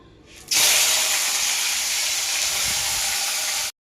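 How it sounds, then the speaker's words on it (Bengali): Single fish dropped into hot oil in a wok set off a sudden loud, broad hissing sizzle that holds steady for about three seconds, then cuts off abruptly. "তেল গরম হয়ে গেছে, আমি এক এক মাছগুলো একটু ভেজে নেব।"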